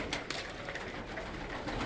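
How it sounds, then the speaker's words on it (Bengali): Giribaz pigeons coo at a farm in cold winter weather after coming down to feed on grain. Soft, repeated cooing sits under a constant broad rustling background. "এগুলো আমার খামারের গিরিবাজ কবুতর।"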